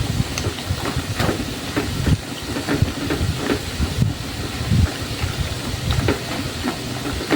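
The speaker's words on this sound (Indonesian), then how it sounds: "Dan kita goreng di api sedang aja supaya matangnya merata ya teman-teman, sampai ke dalam." Cookie dough frying in oil over medium heat, a dense continuous sizzle and crackle with small popping bursts throughout, close and fairly loud with no voices.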